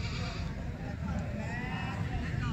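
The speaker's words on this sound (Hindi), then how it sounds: "इनके पास ये भाई बकरा है" Goats bleat amid a busy livestock market in Gujrat, Pakistan, with steady crowd babble and nearby voices throughout, the animal calls rising over the din several times.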